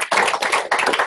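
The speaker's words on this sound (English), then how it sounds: "just a round of applause again" Loud, dense applause from an audience after a talk on the history of Raspberry Pi at a Raspberry Jam event in South Africa, a continuous close wash of many hands with a brief dip midway.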